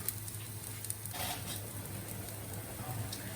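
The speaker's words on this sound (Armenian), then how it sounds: "Հիմա տապակում ենք, մի քիչ տապակենք" Cutlets made with banana blossom fry in a hot pan, a steady soft sizzle with light crackling spatter running throughout, close and moderately quiet, with no voices.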